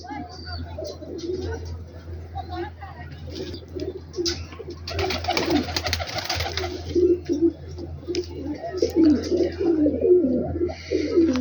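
Male pigeons in Rawalpindi cooing in the evening, repeated low throaty coos over a constant hum, with someone talking intermittently among the calls.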